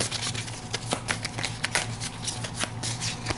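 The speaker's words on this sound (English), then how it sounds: "we're going to shuffle 1d4 random cards" Playing cards for a Pathfinder Rise of the Runelords card game are shuffled by hand up close, a quick run of soft riffling flicks and taps across a few seconds.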